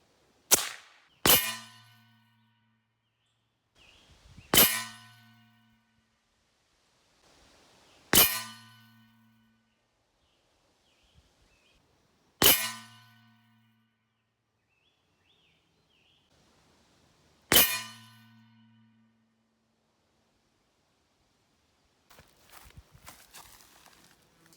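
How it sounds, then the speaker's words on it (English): An Airforce Texan .50 caliber big-bore airgun fires at a target 50 yards away outdoors: several sharp, loud cracks, each spaced a few seconds apart with a short ringing decay, and quiet gaps between them. "that is probably one of the best 5-shot groups I've probably ever shot with a big bore."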